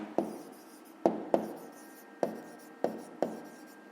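A pen writes maths working on paper for a fifth-grade exercise, close and quiet. Six separate strokes or taps each start sharply and trail off in a soft scratch, with no talking.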